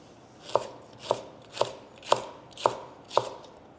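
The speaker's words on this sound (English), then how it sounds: "I also have some green chili here that I'm going to just slice up" A knife chops through green chili on a cutting board in six evenly spaced, crisp strokes, each a sharp close knock against the board with quiet gaps between.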